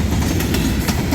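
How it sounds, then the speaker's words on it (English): A train rolls past close beside the railroad track at Dellrose, Tennessee, its wagons producing a steady, loud rumble with faint clickety-clack from the wheels, heard alone without talk. "we was able to come across the track just ahead of the train"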